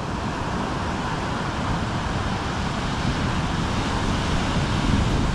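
Ocean surf rolls onto the beach at Puerto Escondido, Mexico, a steady, broad roar of breaking waves with heavy wind rumble buffeting the microphone and no voices.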